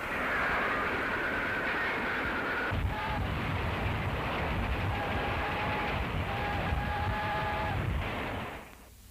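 Steady rumble and rattle of a train in motion in a 1938 gangster film, with rhythmic clatter of wagons and faint whistling tones, continuous and loud until it fades at the end.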